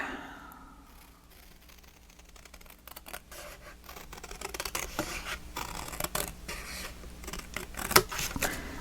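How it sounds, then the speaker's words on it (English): Scissors trimming a small white edge off paper for a photo album, a series of faint close snips and scraping rubs that grow busier and louder toward the end. "Let me cut this little white edge off here."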